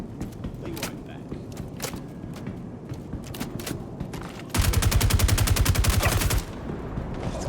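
A gun fires in Star Citizen in a fast, loud automatic burst of about two seconds, hard rhythmic reports in a tight stream. Scattered single shots and softer movement come before it.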